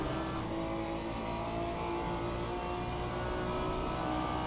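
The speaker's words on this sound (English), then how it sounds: "I think I'm under revving the car." A race car engine in Le Mans Ultimate holds a loud, steady drone at constant revs, continuous and close throughout with no other sounds.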